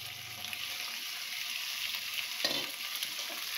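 Prawns stirred in a frying pan with jute leaves: a steady bright sizzle with soft scraping stir strokes, one louder clatter midway, close and continuous with no talk.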